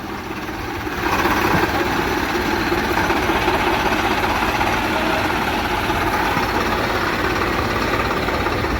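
A Swaraj tractor engine idles steadily while reversing, with low rumbling and mechanical clatter, growing slightly louder after the first second.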